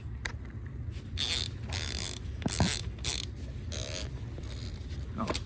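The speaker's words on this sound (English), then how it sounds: "This is what a greased ratchet sounds like." A greased ratchet on a drift car clicks and creaks in short bursts, soft mechanical ratcheting heard up close with brief pauses between turns.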